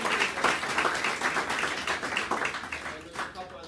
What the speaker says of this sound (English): Give Andrew a round of applause.